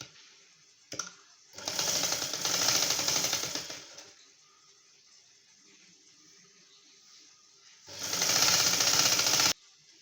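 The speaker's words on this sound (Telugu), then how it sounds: "ఇప్పుడు రివర్స్ చేసుకొని మళ్ళీ దీనిపైన ఒక కుట్టు వేసుకుందాం" An electric sewing machine stitches a prince cut blouse in two loud, steady whirring bursts, one long and one shorter, separated by a quiet pause with faint handling noises.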